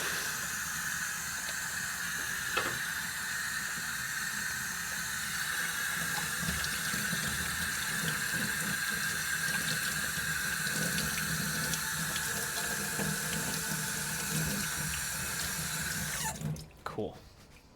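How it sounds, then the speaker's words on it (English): Hands being washed with soap under a running sink tap, a steady close hiss of flowing water with faint handling sounds, speech murmuring beneath, ending as the tap shuts off. "Wash my hands"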